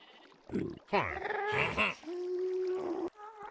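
Sheep in the Minecraft video game bleat in a handful of short, wavering, nasal calls, one drawn out into a steady held tone, fairly close and loud with brief gaps between.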